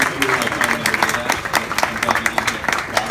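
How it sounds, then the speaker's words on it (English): A crowd at a fireside chat event claps steadily for an arriving guest, producing a dense, even wash of applause for a few seconds with faint voices mixed in. "a big round of applause for Jared"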